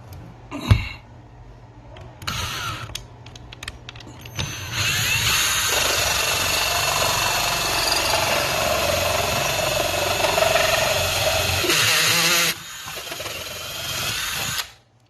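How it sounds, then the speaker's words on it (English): A Ryobi P271 drill bores holes into a wall for hiding TV cables. It gives short bursts up front, then a loud, steady whirring run of about eight seconds that cuts off abruptly, then a brief final spurt, all close by. "So we're going to drill the holes and move on to that step."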